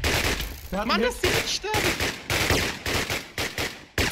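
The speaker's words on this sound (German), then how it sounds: "Lol, sind die Schüsse laut." Rapid video-game gunfire crackling in dense bursts throughout a battle match in Let's Battle, loud and continuous, with excited players talking over it.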